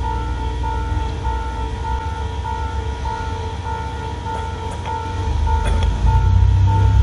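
A train at Echigo-Tsutsuishi in Oyashirazu gives a steady, sustained tonal signal over a low rumble, and the rumble swells near the end as the train begins to move; no one speaks.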